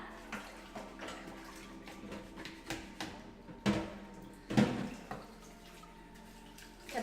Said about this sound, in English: I'm just gonna wash this saucepan